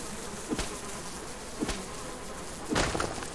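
Bees buzz steadily at a beehive in the survival video game Subsistence, a constant drone broken by a few short dull thuds, with no voices.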